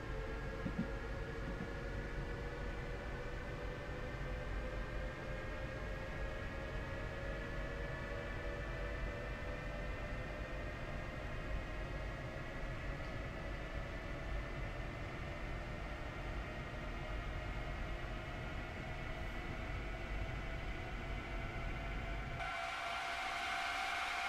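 A rapid-transit metro train rolling along in Train Sim World, with a steady rumbling hiss and rising whining motor tones that swell throughout before cutting off abruptly near the end.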